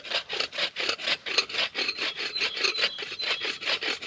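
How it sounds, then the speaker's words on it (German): A survival tube hacksaw cuts a wooden stick in quick, even back-and-forth strokes, close and rasping, with about two strokes per second and no talking. "Jetzt will ich nur nicht da sägen, sondern ich will hier sägen"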